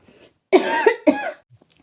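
Two harsh, close coughs from a man with a cold in quick succession, each a sharp burst with a rough tail, surrounded by quiet.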